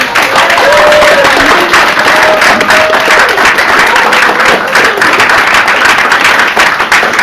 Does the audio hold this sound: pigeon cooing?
no